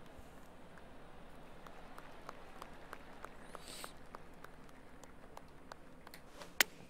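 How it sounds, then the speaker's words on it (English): A single spectator claps steadily for several seconds in a golf video game, PGA Tour 2K23 at Pebble Beach, a faint, even rhythm against a quiet background, ending with a sharp click. "That one dude's clapping for way too long."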